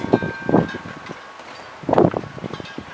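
Gusty wind blows outdoors during an acrylic paint-pouring session, coming as broadband rushing bursts with two stronger gusts, buffeting the microphone, with no talk.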